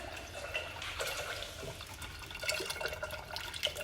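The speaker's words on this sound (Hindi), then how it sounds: "थोड़ा सा पानी डालेंगे इसमें," A small amount of water is poured into a dish, giving a steady close splashing and trickling that runs for about four seconds with a few brighter splashes, with no voices.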